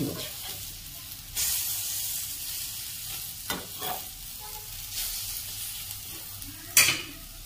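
Spiced jackfruit mixture frying in hot oil, a steady close sizzle with a few louder stirring scrapes and bursts of spattering, no voices.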